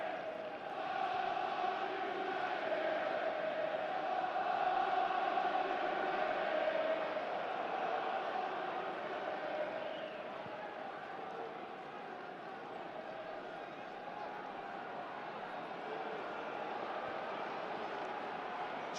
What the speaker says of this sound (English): Just hear the West Brom crowd getting a little bit restless, aren't they?